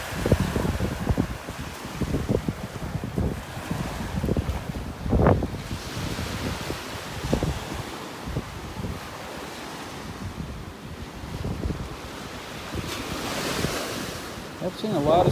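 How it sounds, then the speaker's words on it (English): Strong wind buffets the microphone on a beach in North Naples, Florida, with steady surf rolling underneath; the roar is loud and continuous, rising and falling in gusts across the whole stretch. "I really want to get out of this wind."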